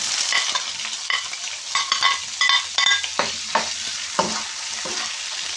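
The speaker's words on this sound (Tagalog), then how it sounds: "Ngayon, igigisa ko na po yung tomato." Fresh tomatoes and ground beef sauté in a hot pan, with a steady sizzle and repeated scraping stirs of a utensil against the pan, loud and close, no voices.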